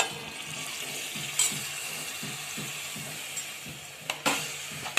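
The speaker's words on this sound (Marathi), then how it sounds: "आपण वरून छोले टाकून देऊया" Chickpeas (chole) sizzle in oil-separated fried masala while a spoon stirs with a steady rhythmic scraping, quiet and close, with a few sharper clinks near the end.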